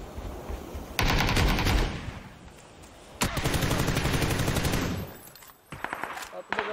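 Gunfire rings out in bursts, loud, rapid automatic volleys separated by short pauses, with people shouting in between.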